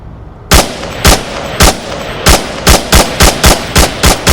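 Gunfire from the shooting game Onward: loud, close single shots, sparse at first and then coming faster in a regular rhythm, each crack sharp and separate with no talking.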